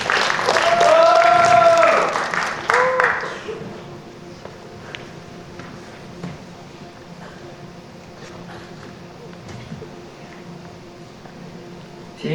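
Audience applause at a school science presentation, a burst of clapping mixed with a voice over a speaker system, fading after a few seconds into quiet room noise with scattered small sounds.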